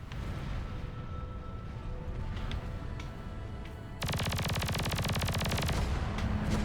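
Video game aircraft machine gun fire, a faint rumble of flight noise followed by a sudden, sustained burst of rapid, evenly spaced shots that continues to the end.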